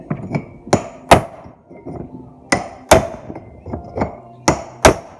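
Sharp metallic hammer blows on a chisel driving a boat trailer bearing out of its hub, struck in uneven pairs and singles with ringing clinks, close and loud, no talk.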